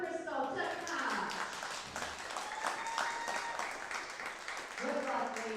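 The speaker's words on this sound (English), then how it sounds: "Please give a round of applause for Kristina, the Crystal Tkach." Audience applause at the WPBA 2024 Napa CueSpeed Invitational pool match for player Kristina Tkach: steady clapping across the whole stretch, mixed with a voice and musical tones.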